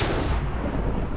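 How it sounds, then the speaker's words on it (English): A deep, rumbling explosion in the video game Minecraft, Hexxit modpack, loud and close with a broad blast that rolls on through the whole moment. "Oh god, you guys. That explosion."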